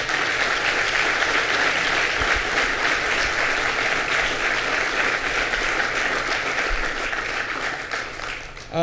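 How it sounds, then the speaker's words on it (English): A college student-center audience at Marist breaks into steady, dense applause for an honoree, the clapping holding at an even loud level before tapering off near the end. "Let's give Lee Meringoff a round of applause."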